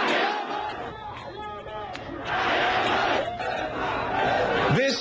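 Protest crowds in Cairo's Tahrir Square chant slogans in loud rhythmic bursts, the massed voices surging and receding in waves with scattered shouts rising above.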